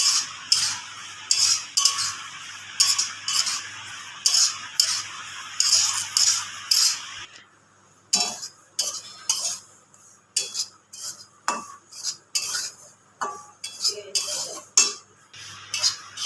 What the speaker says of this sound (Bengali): সুজিটা আমি কাঁচা গন্ধ চলে যাওয়া পর্যন্ত ভেজে নেব